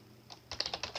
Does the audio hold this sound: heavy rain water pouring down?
no